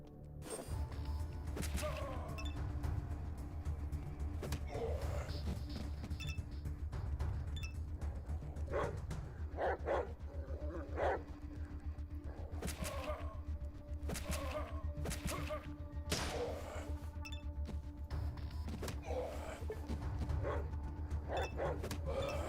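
A dog in the ATOM RPG video game barks repeatedly in sharp, evenly spaced yaps amid combat thuds, over a steady low background hum.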